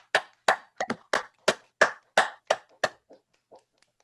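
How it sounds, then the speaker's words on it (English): A few online meeting participants applaud over their unmuted lines at a community health talk: about nine separate sharp claps at a steady, unhurried pace, fairly close, then a couple of fainter scattered taps trailing off. "I'd like to invite everyone to unmute your line to applaud for Elaini."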